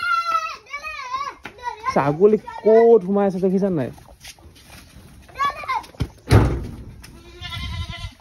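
A goat bleats near a house garden, several wavering, quavering cries in quick succession, followed by voices and a short splash.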